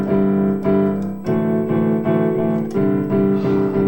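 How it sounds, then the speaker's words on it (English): A keyboard gong patch struck as chords, bright metallic sustained tones with rich overtones, about six strikes in an uneven rhythm, each ringing until the next, played alone without talk. "I like that gong sound so much"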